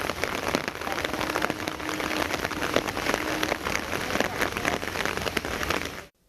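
Heavy rain pours steadily in Kovilpatti, Thoothukudi district, during the northeast monsoon, a dense, loud, continuous wash of drops hitting surfaces with no voices, cutting off abruptly at the end.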